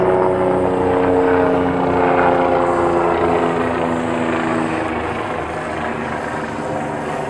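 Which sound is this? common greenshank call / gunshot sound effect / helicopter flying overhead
helicopter flying overhead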